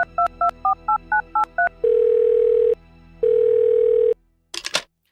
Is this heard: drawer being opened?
no